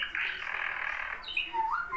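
A young parrot lets out a loud, harsh squawk lasting over a second, followed by shorter rising chirps, close by and indoors with no talking.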